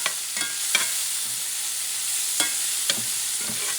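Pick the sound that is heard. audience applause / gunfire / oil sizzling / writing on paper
oil sizzling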